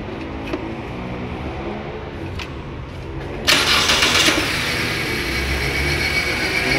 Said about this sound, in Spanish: Seguimos con la prueba de arranque del motor para ver su funcionamiento.